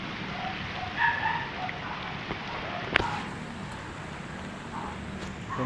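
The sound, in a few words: rain during typhoon Enteng in Bulacan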